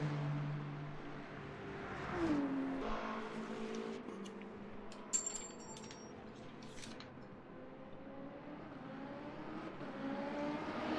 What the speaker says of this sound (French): Il vient être passé par Masterful Geek. Macindus avec sa BMW.